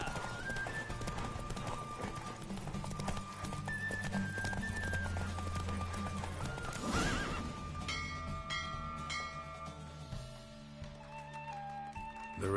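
Horse hooves clip-clop at a steady galloping rhythm during a race in The Witcher 3, with a loud whinny partway through, all set under game music and ambience.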